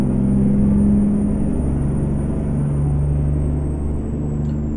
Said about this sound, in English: Engine's pretty loud though.